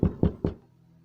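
Three firm knocks on a door come in quick, even succession, heavy and close, with a low hum lingering afterward.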